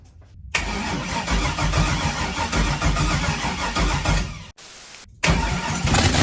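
LS V8 swapped into a Mazda RX8 cranks and fires for the first time, bursting into a loud rough idle, cutting out briefly near the end, then catching again.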